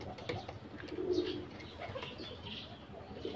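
Pigeons coo softly in a coop, a male among them, with repeated low murmuring calls over a steady background rustle.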